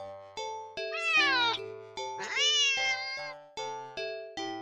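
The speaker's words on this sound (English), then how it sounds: "the cat meows sharply at you" Sharp, insistent video-game cat meows, several in a row with rising, strained pitch, loud and close with no talk; the cat is turning aggressive over untouched food sitting in a corner.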